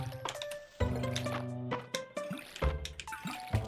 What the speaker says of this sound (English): as I water all the things